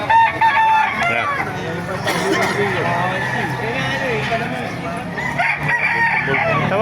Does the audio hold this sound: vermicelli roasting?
no